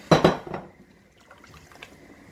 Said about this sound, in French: Je vais ajouter de l'eau jusqu'à les couvrir.